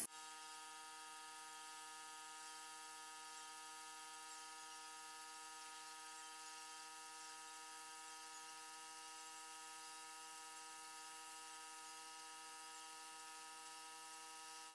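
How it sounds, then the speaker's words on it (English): An airbrush sprays makeup foundation onto a face, its small compressor giving a faint, steady high-pitched whine that runs unbroken throughout. "then just start airbrushing the product all over my face"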